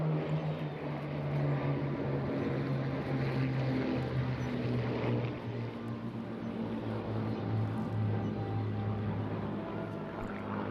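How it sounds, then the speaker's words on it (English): A formation of Bristol Blenheim twin-engine propeller bombers from Duxford drones past at an airshow in Eastbourne, a steady, moderately loud throbbing engine hum that holds throughout with no speech. "the mighty Bristol Blenheim. The Blenheim formation from Duxford."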